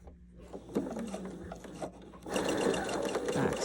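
A sewing machine stitches the seam of a thumb cuff, starting with quiet mechanical clicks and then building into a brisk, close whirring run of needle strokes.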